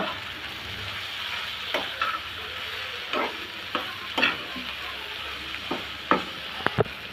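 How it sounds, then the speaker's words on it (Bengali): Steady frying sizzle as spices with roasted cumin powder are stirred in a pan with egg and eggplant, a utensil scraping and knocking every second or so, a couple of sharper clacks near the end. "এখন আমি ভালো করে মশলাটা মিশিয়ে নেব"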